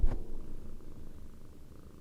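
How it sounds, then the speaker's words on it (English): A cat purs loudly and steadily up close, a low continuous rumble that holds for about two seconds with no talking over it. "Do y'all hear her purring?"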